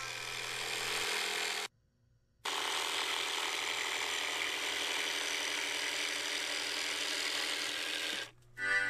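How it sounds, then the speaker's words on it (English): Plywood being cut and shaped with a power tool, a steady, fairly faint whirring and grinding drone that cuts out abruptly for under a second, resumes for several seconds, then drops briefly again before starting once more. "My first process begins with plywood, cutting and shaping it into the desired shape."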